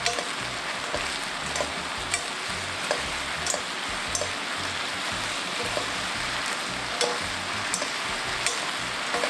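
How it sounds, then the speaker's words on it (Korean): Braising sauce for deep-fried shiitake mushrooms bubbles and sizzles in a pan as it is stirred, a steady crackling simmer punctuated by regular light clicks and taps of the utensil against the pan. "전체적으로 이제 바글바글 끓으면"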